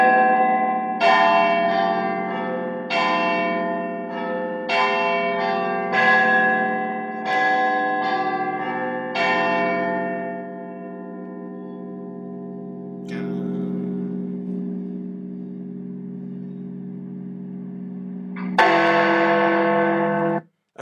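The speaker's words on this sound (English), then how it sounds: "at 1 minute and 16 seconds, you see the start of the bells begin to ring. Ring away, Big Ben, ring away." Big Ben's great clock bells in London ring out loud and close, a series of struck chimes spaced about two seconds apart with long ringing decay, a sustained hum between, then another heavy strike near the end.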